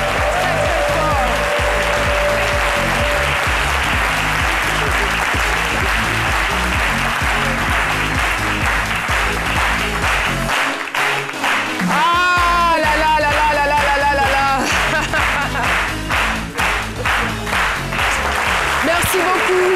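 A television studio audience claps loudly and steadily for a guest, a continuous wall of applause running throughout, with voices and a brief musical or whistling tone surfacing partway through.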